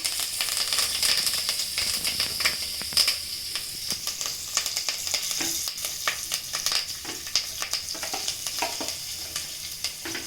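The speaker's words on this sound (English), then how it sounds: "Now my mustard is spluttering. Let me add one by one all my ingredients. I am putting my curry leaves." Mustard seeds and curry leaves spluttering steadily in hot oil, a loud continuous sizzle with dense crackles and pops throughout, no talking.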